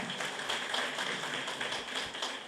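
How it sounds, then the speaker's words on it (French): Audience at a student debate-competition launch ceremony clapping steadily and fairly faintly for about two and a half seconds, a dense patter of hands with no voices. "Je vous demande d'applaudir plus fort que ça"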